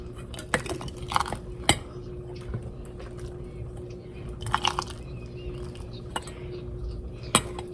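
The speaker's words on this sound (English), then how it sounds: "We're going to ladle it into our jars." Cranberry sauce is ladled into canning jars, with intermittent clinks of a metal ladle against glass and pots, soft wet sloshes, and a steady low hum underneath.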